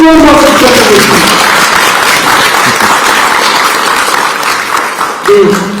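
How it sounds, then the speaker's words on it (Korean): Loud crowd applause and cheering at a Busan political rally for a local election candidate, dense and continuous throughout, with an announcer's voice and music-like tones briefly audible at the start and end. "다시 한번 뜨거운 박수 부탁드리겠습니다"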